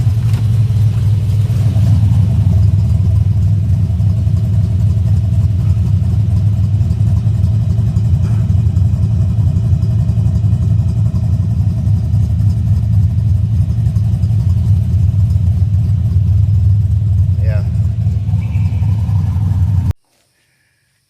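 A 1990 Ford Mustang LX Fox-body V8 with M80 mufflers and no tailpipes, exhaust dumped, rumbles steadily at a loud, deep idle with light revving, close by and uninterrupted for about twenty seconds before cutting off.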